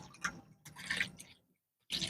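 Chicken liver and stomach are rinsed in water, with bursts of splashing and sloshing separated by short pauses and a near-silent gap before a final splash, close and fairly quiet.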